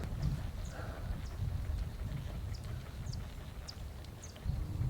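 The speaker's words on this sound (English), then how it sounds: "Some guy's riding up the mountain on a horse." A horse ridden up a mountain path in Panama, its hooves giving faint, irregular clops at a distance over a low outdoor background hum.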